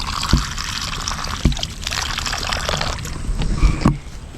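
Copper the dog drinks water. Close, splashy trickling and dribbling runs on with a few sharper splashes scattered irregularly through it.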